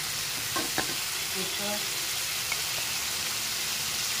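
Potatoes, cauliflower and slit green chilli fry in a pan with a steady close sizzle, broken by a few stirring scrapes and clinks. Quiet talk comes in now and then.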